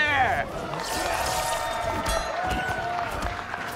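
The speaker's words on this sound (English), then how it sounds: "we got some good crowd noise out there" Crowd at an esports fighting game tournament, Mortal Kombat 1 at ECT Throwdown 2023, cheering and clapping in a broad roar under a commentator talking throughout.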